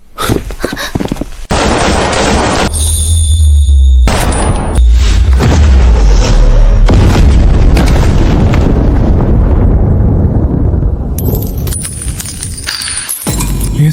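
Heavy barrage of gunfire in a Chinese action drama as many bullets are fired at once, a dense, loud, continuous roar of shots and booming impacts lasting over ten seconds with no talking.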